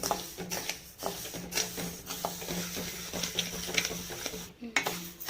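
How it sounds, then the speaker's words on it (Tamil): A spoon scrapes and stirs through dry rice grains being dry-roasted in a metal pan, with steady rustling and clinking strokes up close, plus a faint sizzle. "கையெடுக்காமல் நல்லா கிளறி விட்டுக்கிட்டே இருக்கணும்"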